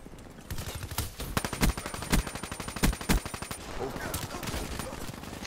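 Gunfire from a weapon in the Black Ops 3 video game, with a burst of sharp, loud shots in a rapid irregular rhythm, then quieter scattered firing and background game noise.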